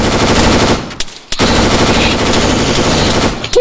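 Rapid automatic gunfire in ArmA 3, loud and close, in sustained bursts broken by two brief pauses, with no voices over it.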